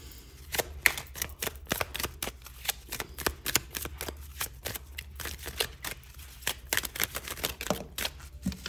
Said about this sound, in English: Let me get you an Oracle card.